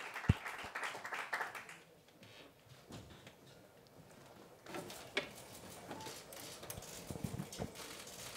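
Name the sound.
audience applause for Andrés Iniesta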